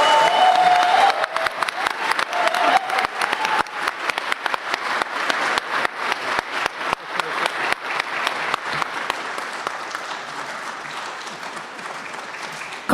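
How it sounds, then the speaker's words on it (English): An audience at the Finnish Game Awards 2025 ceremony applauds loudly from the start, a thick wash of many clapping hands that slowly thins and fades over about thirteen seconds. "please give a round of applause to the team that's been able to put together this amazing feat"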